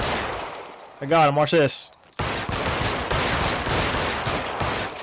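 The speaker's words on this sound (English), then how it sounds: "My man's taking shots." Gunfire in the video game L.A. Noire comes as dense, continuous shooting that fills most of the stretch, loud and close. Someone speaks briefly before it begins.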